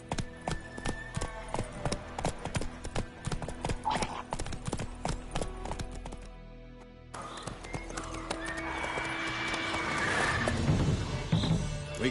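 A horse gallops in The Witcher 3 video game, with steady rhythmic hoofbeats and whinnies over game ambience, a brief lull midway, then continued hooves with louder clattering effects.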